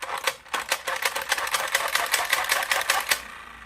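The small plastic gear mechanism of a Fisher Price toy helicopter runs after being freshly greased, giving a rapid, even ticking and whirring rattle close up that stops abruptly near the end.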